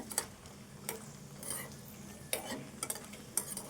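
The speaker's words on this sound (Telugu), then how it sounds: "మిరపకాయలు మాడిపోకుండా దూరగా వేపుకోలే చాలు మాడిపోతుంది చూడు ఈ కలర్ వచ్చేదాకా వేయింపుకుంటే సరిపోద్ది" Dried red chillies frying in a pan for tamarind chutney, with soft sizzling under a few sharp stirring clicks and scrapes, close and quiet.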